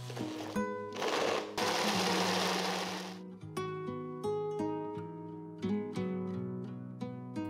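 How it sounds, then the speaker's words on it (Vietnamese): A blender purees a rice vinegar and chili sauce mixture with a loud whirring burst lasting about two seconds, followed by tonal music. "Xay nhuyễn hỗn hợp nha các bạn."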